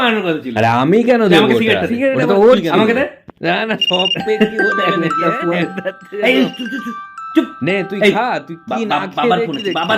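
A phone ringtone plays a steady electronic melody beneath continuous conversation, with several people talking over it.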